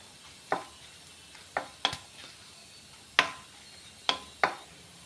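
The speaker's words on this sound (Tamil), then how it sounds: "இந்த எண்ணெயில் பொறிச்சு எடுத்துக்கோங்க சின்ன நெல்லிக்காய் சைஸ் அளவுக்கு புளி ஆட் பண்ணிக்கோங்க இதையும் எண்ணெயில் வதக்கி எடுத்துக்கலாம்" Dried red chillies and a small lump of tamarind frying in oil for a thuvaiyal chutney, a faint quiet sizzle broken by about six sharp spatula scrapes and taps against the pan, close up with no talking.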